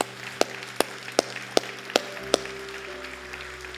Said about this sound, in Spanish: ¿Por qué no damos unas palmas bien fuertes?